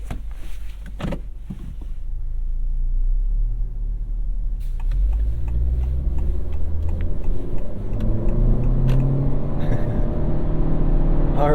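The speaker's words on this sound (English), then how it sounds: "let's go ahead and take this Civic hatch for a drive and see what it's like on the road" A 2022 Honda Civic Hatchback with a 1.5-liter turbocharged four-cylinder drives on the road, its steady low engine and tyre rumble swelling as it accelerates, heard from inside the cabin with no talk.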